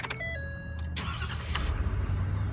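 A brand-new 2017 Ford F-350 truck starting with the key: a short series of electronic chimes, then the engine cranks and catches into a steady, close-up idle rumble.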